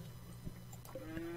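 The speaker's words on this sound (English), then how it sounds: "There's our cow." A cow in the colony-building game RimWorld gives a short, soft low moo that rises into a brief tonal note near the end, faint and alone over a quiet background.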